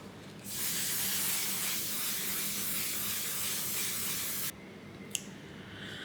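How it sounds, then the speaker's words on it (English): A steady aerosol spray of mattifying makeup setting spray hisses loudly for about four seconds, then cuts off, followed by a faint click. "mattifying setting spray"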